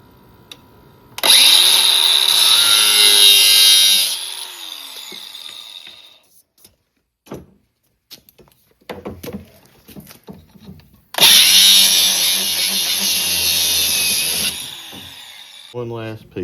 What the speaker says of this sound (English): this PVC cut is really easy